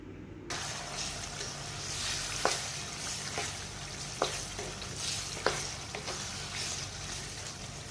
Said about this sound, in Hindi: हमने हाई फ्लेम के ऊपर कीमे को और प्याज को और लहसुन को भून लिया।